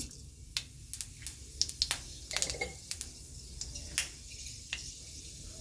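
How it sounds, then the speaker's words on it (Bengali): Panch phoron spices sizzle in hot oil with a faint background hiss, broken by many sharp crackles and pops at an irregular rhythm, close and quiet, without voices. "গরম তেল আছে আমি একটু পাঁচ ফোড়ন দিয়ে দিই"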